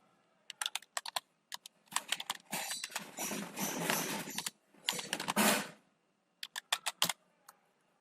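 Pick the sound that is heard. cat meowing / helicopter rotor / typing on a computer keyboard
typing on a computer keyboard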